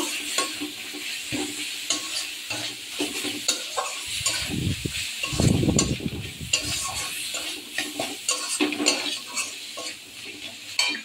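Spices, including red chilli powder, being sautéed and stirred in a pan, with a steady sizzle and frequent scraping strokes and a louder burst of rustling stirring midway.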